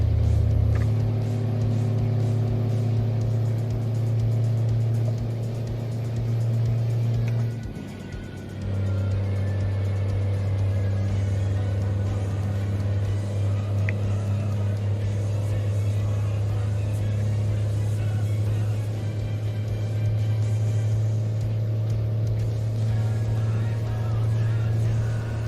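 Truck engine in American Truck Simulator drones at a low steady pitch, dipping briefly as if during a gear shift, then settling back into a constant rumbling hum.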